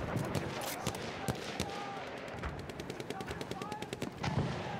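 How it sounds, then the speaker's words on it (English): Battlefield 1 machine gun fire in rapid bursts, mixed with other gunfire and battle noise across the clip, fairly loud and continuous, with occasional voices underneath. "Enemy machine gun sighted."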